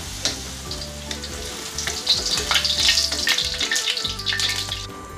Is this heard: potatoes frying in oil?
yes